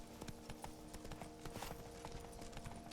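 Roach, Geralt's horse in the video game The Witcher 3, trots with a steady clip-clop of hooves, quiet and even, with no talking.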